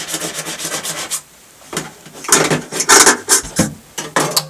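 Scraping of a rigid gasket cleaner over cured silicone caulk residue on a bathroom sink and countertop, heard as repeated rough rubbing strokes, steady at first, then a pause and louder, choppier scrapes close to the mic.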